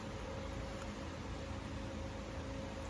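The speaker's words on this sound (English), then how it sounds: "fan coming on, it'll be a bit noisy." Steady broadband whoosh of a fan running in a warm pottery studio after the kiln has been on, a constant low, even hiss with no talking.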